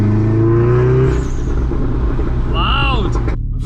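A modified VW Golf R Mk7 with an aftermarket dump valve: steady loud engine drone, then a quick hissing whoosh and whine as the valve vents, close by and loud, ending in a sharp cutoff.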